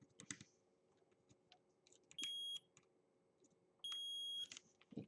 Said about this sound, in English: there's a beep there